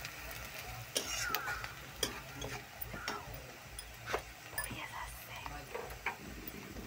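Coriander and Kashmiri chilli powder frying in a pan give a low, continuous sizzle, broken by sharp ticks and scrapes from stirring and some faint background voice.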